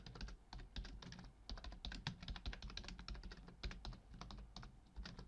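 Typing on a computer keyboard, a steady close patter of rapid key clicks with brief pauses, quiet and continuous with no voices.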